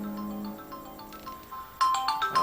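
A phone ringtone starts near the end as a bright, loud electronic tone pattern, following a quieter stretch with a low hum and soft background noise.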